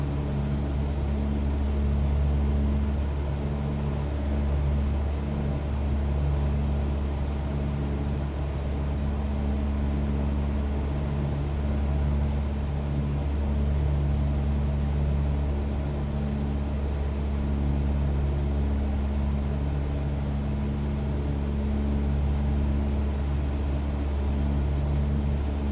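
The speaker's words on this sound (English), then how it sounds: "But I do want nice buzzing sound from the engine on the way back." Steady, droning buzz of a simulated Cessna single-engine propeller airplane in Microsoft Flight Simulator, cruising on the return to the airfield with an even, continuous hum and no voices.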